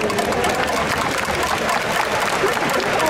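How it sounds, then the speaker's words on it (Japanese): Crowd applause at a baseball stadium welcoming the ceremonial first pitcher, a steady dense wash of clapping that holds at even loudness for about three seconds. "拍手でお迎えください。"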